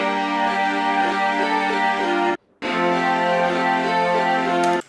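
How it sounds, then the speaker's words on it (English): A Korg M1 synthesizer string patch plays sustained, rich chords, holding steadily loud, then breaking off briefly before resuming and ringing on to the end, with no voices. "It's an M1 doing some strings, which sound like this."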